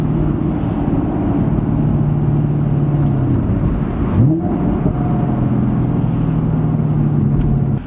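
A 2016 Chevrolet Camaro SS V8 heard from the cabin, holding a steady drone, then blipping and sweeping in pitch through a manual downshift before settling back to a steady engine tone.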